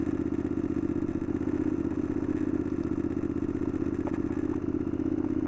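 A 2002 Honda VTR 1000F Superhawk V-twin motorcycle engine idles steadily after sitting unused for about two months, with a constant loud rumble and a light mechanical clatter throughout, no voices.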